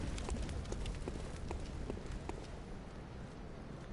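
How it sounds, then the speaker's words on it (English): A horse's hooves clip-clop in the dark gothic video game Bloodborne, a quick run of hard hoofbeats against stone that fades slightly over a few seconds, set in steady background ambience with no talk. "Is that a horse? That was a horse."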